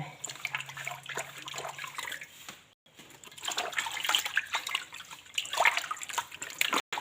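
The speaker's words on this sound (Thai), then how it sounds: "ล้างข้างหน้า ล้างข้างใบบางทีมันมีตัวมแมลงเกาะนะ ล้างให้เกลี้ยงเลย" Close-up running water rinses leafy green vegetables by hand, with splashing and trickling over the leaves. A brief pause breaks the flow before it resumes, and the sound is louder and more churning near the end.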